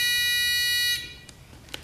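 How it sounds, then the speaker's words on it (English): The alarm of the Oven Alarm 5000, a child's invention, sounds a steady, shrill electronic buzz for about a second, then cuts off, leaving quiet room noise with a few faint clicks. "It has an alarm to warn you if your child tries to touch it."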